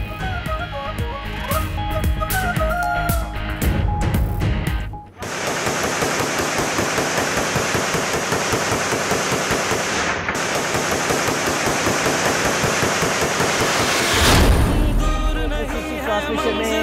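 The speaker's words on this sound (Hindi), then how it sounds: "हवाई फायरिंग होती रही।" Celebratory aerial gunfire erupts at an election victory celebration, loud rapid bursts and rattling volleys of shots that run almost continuously, with a brief pause midway and a crowd roar near the end.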